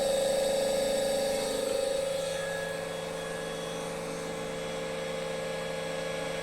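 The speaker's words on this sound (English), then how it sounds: "You can see here the motor is running very smoothly" An industrial electric motor driven by a repaired Schneider Altivar ATV312 variable-frequency drive runs at 50 Hz, giving a steady, smooth tonal hum with a faint electrical whine and no interruptions.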